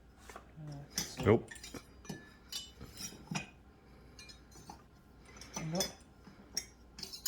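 A bread knife being tried in slots of a new kitchen knife block, with sharp metallic clinks and scrapes of blade against wood in short, separate bursts, while people talk quietly nearby.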